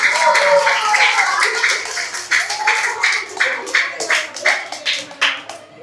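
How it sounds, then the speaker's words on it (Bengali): Children clap at a Children's Day prize ceremony in a primary school, a close burst of scattered claps that settles into a rhythmic, pulsing beat, with voices mixed in. "সবাই একটু হাততালি মারো।"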